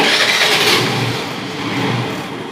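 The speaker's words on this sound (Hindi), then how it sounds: "उसके बाद गाड़ी को स्टार्ट कर लीजिए।" A Honda Activa scooter engine starting and settling into a buzzing idle, fairly loud and close, with a slight rise and fall in revs and no talking.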